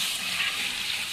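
Water poured into a pot of uncooked rice while making potato pulao in a home kitchen, a steady close hissing gush that runs evenly for about a second.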